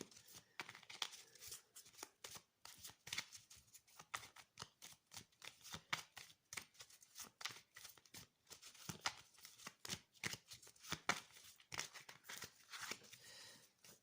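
Lenormand fortune-telling cards are shuffled by hand in a quiet room, a long run of rapid, crisp riffling and slapping bursts with brief pauses, close and fairly soft.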